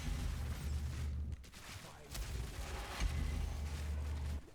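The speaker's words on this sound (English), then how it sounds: "Hit him with some grenades." Explosive blasts from grenades thrown in Path of Exile 2 combat, a few low rumbling booms landing over steady game noise, with a voice talking briefly in the mix.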